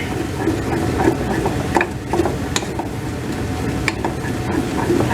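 A spoon works tomato paste, freshly squeezed from a tube, into the base of a pot roast braise, giving a steady scraping and sizzling texture with a few sharp clicks against the pot.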